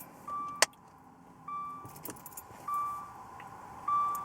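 Keys on a Dodge car key ring give a brief close jangle early on, while the car's interior chime repeats steady electronic tones throughout.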